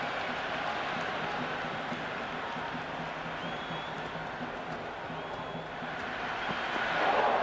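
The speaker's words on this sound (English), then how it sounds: "The crowd is electric right now." A cricket stadium crowd at a T20 World Cup Super 8 match between India and West Indies keeps up a steady roar of cheering and applause, swelling louder near the end.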